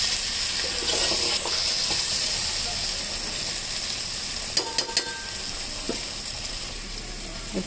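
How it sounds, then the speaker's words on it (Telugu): Chili powder frying in hot oil for Ongole-style sambar gives a steady, even sizzle throughout, with a few faint clinks of a utensil near the end. "మామూలుగా మన నూనెలో వేయంగానే కారం నూనెలో వేగిపోద్ది"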